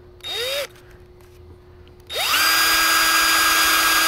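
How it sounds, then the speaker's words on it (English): A power drill whines briefly, stops, then spins up again and bores steadily through plywood, loud and close, with no talking. "You take the drill, you line up, and you just go right in."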